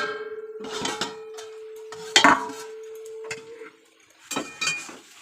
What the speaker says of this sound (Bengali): এইবার আমি ঢাকনাটা খুলে দেবো।